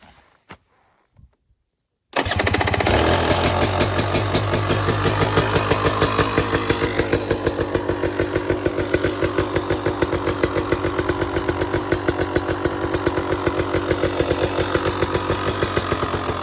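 A 2023 KTM 250 XC dirt bike engine idles steadily after a brief quiet start, warming up with a loud, rapid, even exhaust pulse that holds constant throughout.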